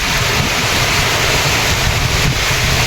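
A fierce windstorm with heavy rain roars in a dense, unbroken rush of noise, loud and close, buffeting the microphone with no pauses.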